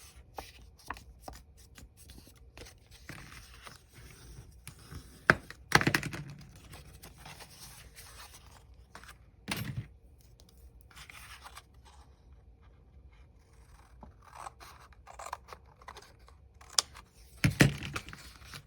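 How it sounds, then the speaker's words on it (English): Paper being folded in half for a handmade file folder folio, with soft rustling and a few sharper crinkling bursts and creases close to the microphone, mostly quiet between handling sounds. "I'm going to fold it in half."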